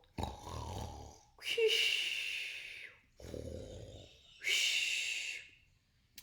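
Two cycles of loud, exaggerated snoring, a deep rumbling inhale followed by a hissing, airy exhale, close and alone, likely a voice imitating it.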